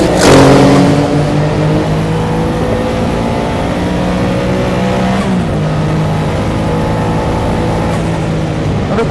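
A Porsche 962 Le Mans race car, roughly 650 horsepower, accelerating hard; loud close engine roar with a sharp onset, a quick gear shift midway, then a sustained high-revving drone.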